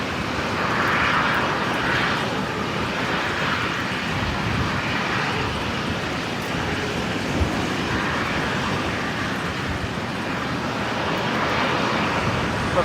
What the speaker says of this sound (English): Jetstar 821, the next departure here, just beginning its takeoff roll off to Sydney this afternoon.